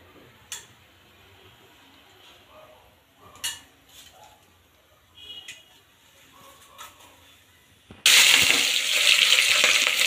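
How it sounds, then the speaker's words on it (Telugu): Cooking ingredients for a Telangana goat head curry are washed, with soft scattered clinks of utensils in a quiet kitchen, then a loud, sudden rush of running tap water at the end. "ఈ విధంగా శుభ్రంగా కడగాలి."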